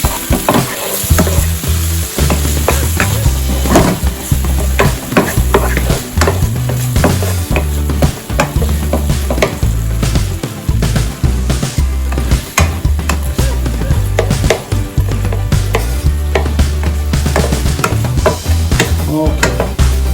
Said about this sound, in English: We saute the onions